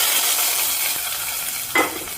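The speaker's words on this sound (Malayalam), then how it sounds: "കറിയിലേക്ക് നമുക്ക് ഡയറക്റ്റ് ഇട്ട് കൊടുക്കാം." Hot tempering tipped straight into an ash gourd pulissery curry, a short close sizzle and stir with a sudden brief hissing burst near the end.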